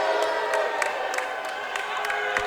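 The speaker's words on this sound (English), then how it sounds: "we see a very upset Danville crowd here" A basketball crowd at a Danville men's tournament semifinal murmurs and calls out in protest after a foul call, a sustained roar of many voices with scattered shouts, heard from across the gym.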